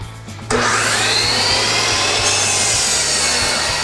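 A compound miter saw spins up and cuts through a wooden board at a 45-degree angle, the loud, steady whine of the blade and wood rasp starting abruptly and holding close and strong to the end.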